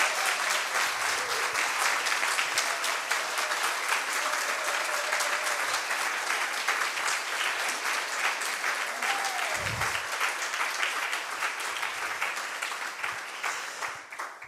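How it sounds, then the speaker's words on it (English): A conference audience at a closing session in an Amsterdam arena applauds in a long, steady burst of clapping that slowly tapers off toward the end. "I would really like to ask you to give her a huge round of applause"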